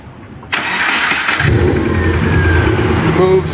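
A Subaru Forester engine, with its motor mounts due for replacement, cranks briefly, catches and settles into a loud, steady idle nearby, with a person speaking over it.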